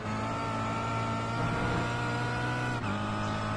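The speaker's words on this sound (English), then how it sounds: "So here he goes, downshifting very hard on the brakes into turn 1." A touring race car engine in the iRacing sim at Summit Point, a 2-mile circuit, drones loudly and steadily with a strong harmonic tone. A brief shift or downshift dip comes near the end.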